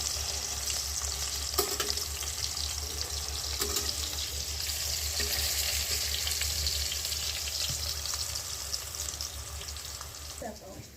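Food sizzles and crackles steadily in a hot pan, with occasional stirring clatters and faint background noise throughout.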